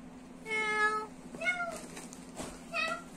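A person imitates a cat, giving three drawn-out meows with pauses between them, fairly close and moderately loud, over a steady low hum.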